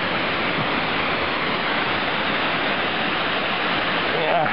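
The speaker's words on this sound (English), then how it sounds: "There's the waterfall and Wepre Park" A waterfall at Wepre Park gives a dense, steady rushing roar that holds at an even level from start to finish, close by and with no pauses.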